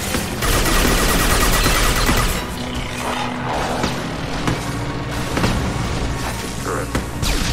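A turret in a video game fires a loud, continuous barrage of rapid shots. Scattered impacts and mechanical clanks come through the dense gunfire.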